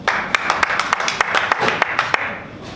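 Local audience members at a comedy show applaud, a short burst of scattered, lively clapping with some distinct individual claps standing out, steady throughout.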